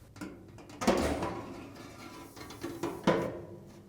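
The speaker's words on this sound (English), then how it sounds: "Then, slide the exhaust assembly out." Metal scraping and sliding with a few clunks as a Samsung dryer's exhaust duct assembly slides out, two louder knocks near the middle and end, close by in a quiet room.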